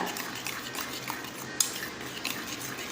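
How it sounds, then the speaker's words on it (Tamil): Spice powder whisked into curd in a bowl, a soft steady scraping and clinking of a utensil against the bowl with one sharper tap, quiet and close with no talk. "அந்த பொடி வந்து நல்லா தயிரில் கோட்டாகணும் அந்த அளவுக்கு இந்த மாதிரி அடிச்சு அடித்து கலந்து விட்டுக்கோங்க"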